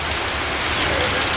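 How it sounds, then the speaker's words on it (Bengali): Heavy rain pours down steadily in a village, a dense, even hiss of drops drumming close by with no pauses. "মাশাআল্লাহ খুব ভালো বৃষ্টি হইতেছে"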